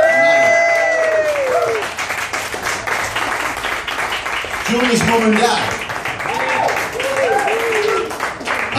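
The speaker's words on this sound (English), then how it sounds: "give these two lovely people here a round of applause for 57 years" An audience at a live blues club gig applauds a couple celebrating their 57th wedding anniversary: sustained, full clapping with some cheering that runs throughout while someone talks over it on the microphone.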